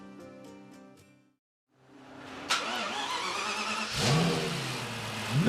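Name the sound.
Lexus LFA 4.8-litre engine revving on test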